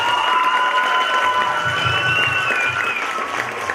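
Audience applause fills a Christmas stage show, steady dense clapping with a faint whoop or two on top, sustained throughout without talk.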